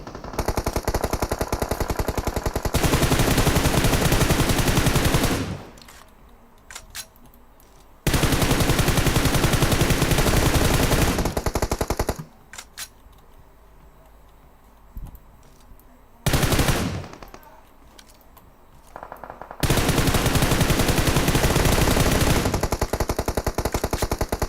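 Bursts of automatic gunfire in the mobile battle-royale game PUBG Mobile, loud and close, coming in long sustained volleys separated by quieter gaps.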